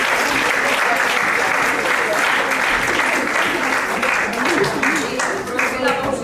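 An audience at a talent show or competition event applauds, giving a loud, sustained round of dense clapping that holds steady for several seconds, with a little crowd murmur underneath.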